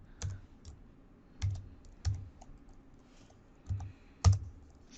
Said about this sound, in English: So now you can simply open File Explorer and type this path,